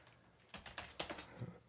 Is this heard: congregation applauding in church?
no